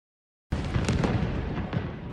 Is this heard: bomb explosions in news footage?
yes